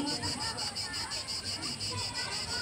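Cicadas in Koroni in the Peloponnese keep up a pulsing, high buzzing chorus with a regular beat, fairly faint and steady, while a quiet murmur of distant voices sits underneath.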